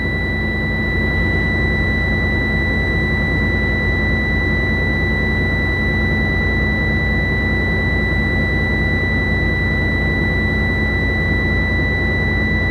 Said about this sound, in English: This is known as our compressor air build check, which tests the condition and performance of the compressor.